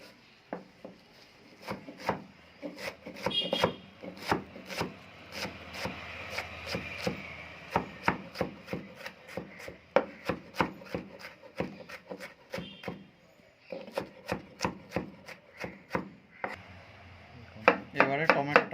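A knife chops onion and tomato finely on a wooden board, making sharp, rapid knocks in quick bursts with brief pauses, close and clear.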